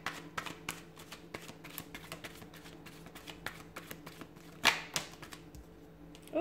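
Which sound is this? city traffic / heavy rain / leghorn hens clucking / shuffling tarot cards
shuffling tarot cards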